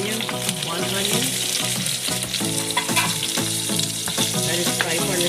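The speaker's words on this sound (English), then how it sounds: "Let it fry for a little bit, like 2 minutes." Onion frying in oil with mustard seed for a Guyanese chicken curry, a loud continuous sizzle with rhythmic stirring scrapes and clinks of a utensil against the pot, close up with no talk.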